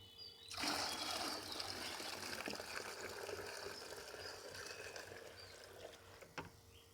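Water is poured into a cold liquid feed for hibiscus plants, about five litres' worth, and mixed in, giving a faint steady splashing and trickling after a quick start.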